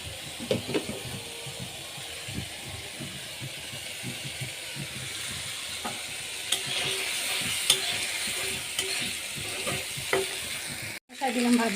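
Okra sizzles and fries steadily in a pan, with intermittent stirring scrapes and clinks over a constant hiss, close and moderately loud, ending with a brief rattle.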